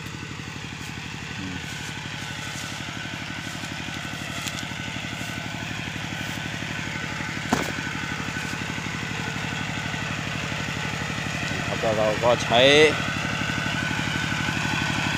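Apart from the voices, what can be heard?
old Kubota walking tractor engine idling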